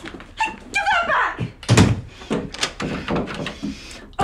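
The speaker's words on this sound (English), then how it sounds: "Open the door, Darren" Someone bangs and thumps on a door in a romantic breakup drama scene, with several sharp knocks spread among raised, emotional voices of people arguing.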